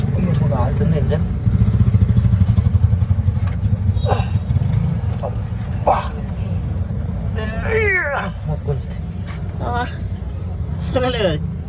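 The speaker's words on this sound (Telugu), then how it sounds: "ఇప్పుడు ఆడుతుంది ఇంజన్." Auto rickshaw engine running after a roadside repair in Hyderabad, a low throbbing idle rumble beneath close speech and sharp meow-like cries.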